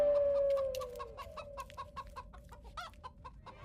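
A hen clucks in a rapid run of short, sharp, fairly faint notes over a steady background hum, with no talking.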